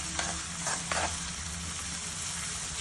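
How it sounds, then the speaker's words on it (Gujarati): Chopped white parts of green onion sauté in a hot pan, giving a steady soft sizzle with a few brief stirring scrapes near the start, fairly quiet and continuous, with no voices. "જોઈ શકો છો કે ડુંગળી હવે સંતળાઈ ગઈ છે"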